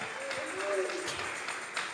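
Church congregation clapping during a Sunday service, a soft diffuse spread of applause under a voice speaking over it, with a sustained musical tone in the background.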